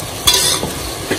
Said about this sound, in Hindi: अब इसको कम से कम हमको 5 मिनट तक भूनना है।